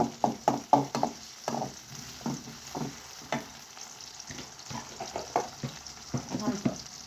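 Onions softening in a pan with ginger paste added, a soft sizzle under repeated spoon stirs and clatters against the pan, close and moderately loud, with no talking.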